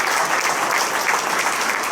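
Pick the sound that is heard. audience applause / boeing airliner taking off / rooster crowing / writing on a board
audience applause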